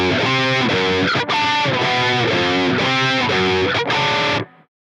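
A heavily distorted electric guitar plays a riff in standard tuning, loud and alone, with driving chugged chords that break off briefly twice before ringing out and stopping.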